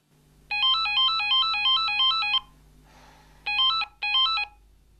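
A Sexlink telephone rings with a bright electronic trilling tone: one long warbling burst, a short pause, then two shorter bursts, loud and close.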